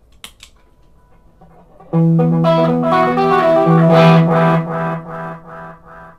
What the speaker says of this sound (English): It's going to be dark and it's going to add its own distortion to the repeats.